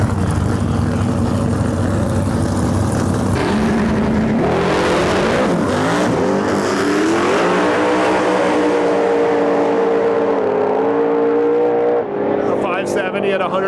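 Drag racing cars roaring down the track at a Lights Out qualifying event, a loud sustained engine blast rising in pitch as they accelerate, with an announcer talking over the noise throughout.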